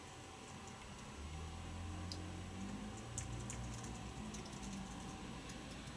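Steady computer keyboard typing while playing an ISS Dragon spacecraft docking simulator, a continuous run of light, close key clicks over a low background hum, with no talking.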